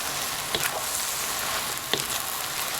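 Vegan noodles stir-fried in a pan give a steady close sizzle, with two sharp clacks of a utensil against the pan.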